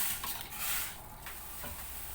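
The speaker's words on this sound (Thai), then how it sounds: "ลวกลูกชิ้นไปก่อนจ้ะ" Pork meatballs blanch in boiling water in a wide pan, a soft, steady bubbling and hissing simmer that stays faint, with a few light stirs and knocks and no voices.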